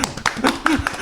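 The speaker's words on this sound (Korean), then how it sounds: "여기 마이크에 최대한 가깝게 박수를 치고 있습니다." Several sharp hand claps close to the microphone during a podcast recording, irregularly spaced, with people talking over and between them.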